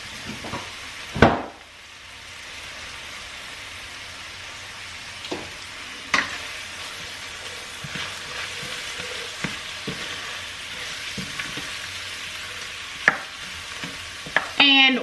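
Half a stick of butter melts in a pan with garlic before cabbage is added, giving a steady close sizzle punctuated by occasional utensil knocks and clinks against the pan.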